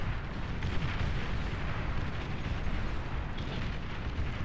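Rumbling, dense explosions from a bombing run in the strategy video game Beyond All Reason, a continuous roar of overlapping blasts that stays steady throughout with no talking.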